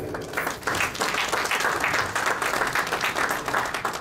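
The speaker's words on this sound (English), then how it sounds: "I request you to put your hands together to welcome them by a big clap." Audience at a farewell gathering for community volunteers breaks into sustained, dense applause, steady and fairly loud for the full stretch, with no talking over it.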